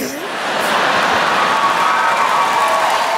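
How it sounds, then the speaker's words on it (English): Steady applause from a large audience at a Jeff Dunham comedy show, a dense wash of clapping that swells slightly at the start and holds loud throughout, with faint cheering mixed in. "Big applause break."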